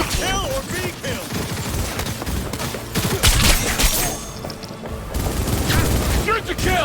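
Rapid bursts of gunfire ring out in the video game Cyberpunk 2077. Sharp, close shots fire in fast clusters with a short lull in the middle, mixed with other combat sounds.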